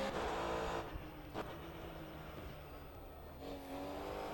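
A race car engine at Zandvoort in rFactor 2 roars at high revs, dips as the car lifts and brakes into a corner, then climbs again. The sound is continuous and fairly quiet, with no speech over it.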